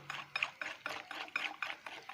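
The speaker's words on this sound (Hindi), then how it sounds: "इसको हम अच्छी तरह मिक्स करेंगे।" Cake batter for a date cake being mixed by hand with sugar and oil, heard as a steady rhythmic scraping and stirring repeated about every quarter second, soft and close with no talking.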